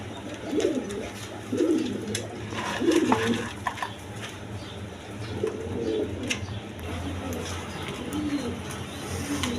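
Domestic pigeons kept for sale, Denis breed among them, cooing in soft repeated low phrases amid a busy, noisy background, fairly close and moderate in level.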